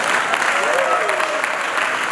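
A crowd at a Nigeria Police honours ceremony hosted by the Anambra governor applauds in a dense, steady burst of clapping, with a faint voice underneath.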